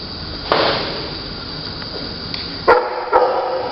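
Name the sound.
dog barking at an animal shelter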